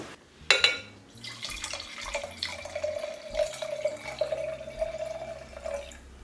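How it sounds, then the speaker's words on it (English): Wine poured from a bottle into a very large glass indoors, a steady trickling stream lasting several seconds after a brief clink at the start, close and fairly quiet with no talking. "I'm going to pour myself up a glass of wine"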